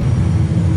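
Loud, steady roar of Airbus A320 jet engines at takeoff power as the aircraft rotates, heard from inside the cockpit as a dense low rumble with airflow hiss.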